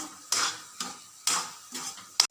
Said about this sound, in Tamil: கிண்டிக்கிட்டே இருக்கணும், விடாமல் கிண்டிக்கிட்டே இருக்கணும்.